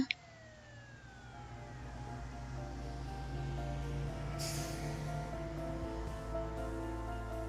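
Wailing emergency sirens sweep up and down in the distance over a steady low hum.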